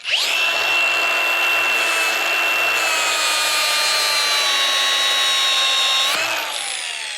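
A power sander with an 80 grit pad grinds down a stainless steel weld, a loud, sustained high whine with steady tonal pitch lasting about six seconds before spinning down.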